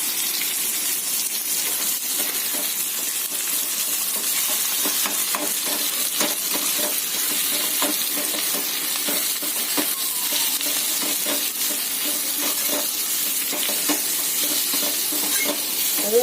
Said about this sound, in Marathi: आणखीन आपण थोडं परतूया ते.